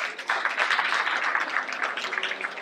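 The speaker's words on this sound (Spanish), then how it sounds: "Así que le damos un aplauso." An audience at a Latino night school event claps for the visiting teachers, a dense, steady burst of applause from a crowd indoors, fairly loud with no one speaking over it.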